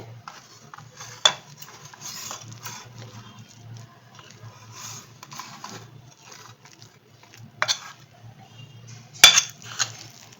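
Poppy seed cutlet mixture being kneaded by hand with rice flour in a bowl gives soft, steady squishing and rubbing, with a few sharp clinks of utensil against the bowl near the end.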